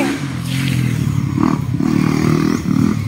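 A motorcycle passes close by on a road lined with coconut trees, its engine droning steadily and swelling in a couple of loud surges, with clattering and scraping mixed in.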